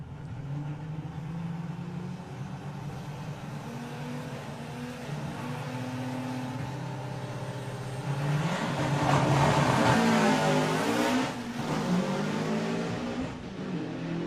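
VW drag race cars launching and racing down the strip at Santa Pod, engines droning at a distance and then swelling into a louder, rising roar as they pass before fading again, with no talk.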